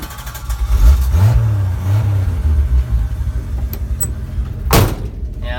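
An overheated pickup truck engine cranks and fires up nearby, a rumbling low churn giving way to a running engine, with a short sharp clatter near the end.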